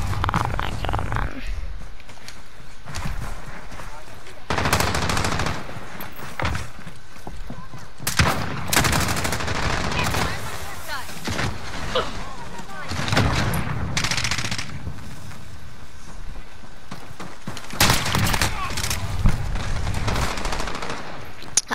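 Rapid bursts of AR-94 automatic rifle fire in a Call of Duty match, loud repeated volleys broken by short pauses, with a few quieter stretches and faint game sounds between.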